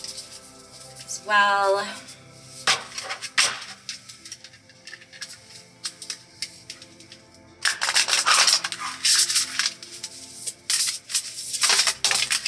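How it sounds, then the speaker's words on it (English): Tarot cards are shuffled by hand in quick riffling bursts and sharp card slaps, close and crisp, with someone speaking briefly between them. "Shuffle, shuffle"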